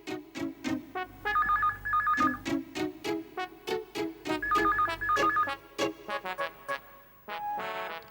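An electronic telephone ringtone plays in a home setting, a repeating melodic pattern of bright beeping tones in bursts with short pauses, clear and fairly loud, with no one speaking.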